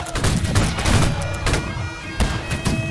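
Musket volley fire in the line-battle video game Holdfast, several ragged bursts of overlapping gunshots with rumbling echoes, loud and close, with faint shouting voices in the background.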